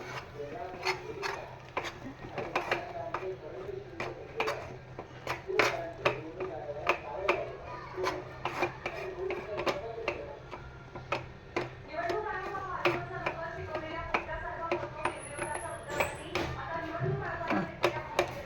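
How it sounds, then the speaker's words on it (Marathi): Flour is stirred briskly into hot water and milk in a pot, making a rapid series of close, crisp ticking knocks and scrapes of the spoon while a voice talks over it. "आता हे फटाफट ढवळून घ्यायचं पीठ"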